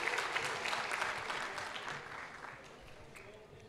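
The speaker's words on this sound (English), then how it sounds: "give yourselves another round of applause" A commencement crowd at Bronx Community College gives a round of applause, a dense clapping that is steady at first and slowly fades over a few seconds.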